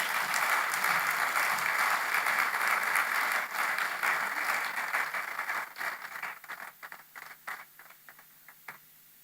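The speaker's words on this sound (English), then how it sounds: "I know that we can do better with that round of applause." A large audience at a Nigerian electrical and electronics engineers' conference bursts into sustained, dense applause that gradually thins into scattered individual claps before fading out.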